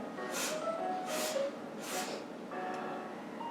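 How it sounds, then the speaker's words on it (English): Three quick, short sniffs through the nose in a steady rhythm, close and soft, followed by a longer breathy exhale, during a children's yoga breathing exercise. "Take quick little sniffs with your nose"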